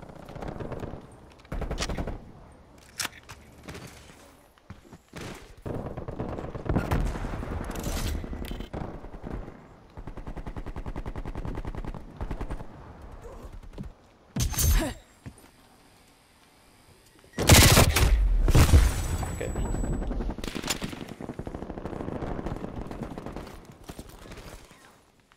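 Krig 6 rifle fire in Black Ops Cold War, loud bursts of automatic shots alternating with short single and double cracks, with gaps of quieter game noise between volleys.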